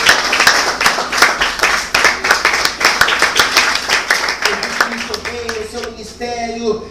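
Church congregation clapping in praise, a fast steady rhythm of hand claps close and loud, layered with voices and a low musical drone that thins out near the end.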